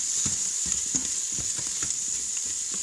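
Sliced onion sautéing in an Instant Pot for an Indian spiced lettuce soup, a soft continuous sizzle broken by repeated low stirring scrapes at a fairly even pace, close by and without speech.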